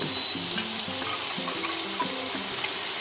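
Pumpkin greens frying in a pan with mustard-paste rinse water just added, giving a steady, close sizzle with faint stirring scrapes throughout.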